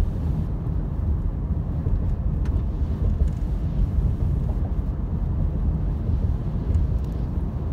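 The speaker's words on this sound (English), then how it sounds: "Windy and blowing hard." Steady, loud wind roaring and buffeting against a microphone at a snowy summit in Big Bear, a continuous low rumble with no pauses.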